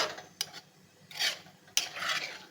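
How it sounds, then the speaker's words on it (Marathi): A spoon stirs rice with spiced chickpeas and jaggery in a pot, making two or three soft scraping, rasping sweeps with short pauses between them, close up and quiet with no talking. "एकदा तांदूळ छान मिक्स करून घ्यायचे आहे."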